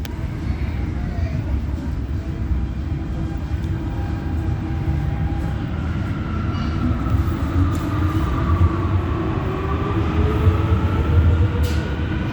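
A Guangzhou Metro Line 1 train idles at a station platform, giving a steady loud rumble with a rising tonal whine in the second half, and faint voices beneath.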